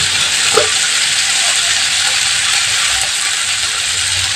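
A spice mixture with salt and turmeric sizzles steadily in a pan, a continuous close frying hiss with a faint scrape of stirring near the start.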